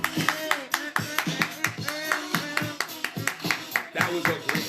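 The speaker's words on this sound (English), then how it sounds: "You gonna keep clapping?" A small group of people clap at the close of a morning show, about a dozen quick uneven claps with brief gaps, close and moderately loud with no voices over them.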